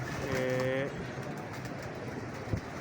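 A pigeon's soft cooing rises briefly over a steady background hum in Lahore, then fades, followed by a quiet thump.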